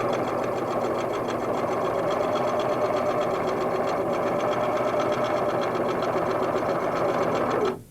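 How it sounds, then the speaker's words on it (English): A Singer sewing machine stitches a quilt border seam, its needle running in a fast, even mechanical chatter, close and steady for about eight seconds before stopping. "Backstitch at the end and remove from the machine."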